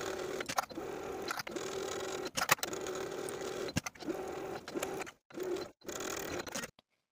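A sewing machine runs in short stitching bursts while hemming the bottoms of pant legs on a jumpsuit, its rapid mechanical rattle starting and stopping repeatedly with brief pauses and fabric handling between runs.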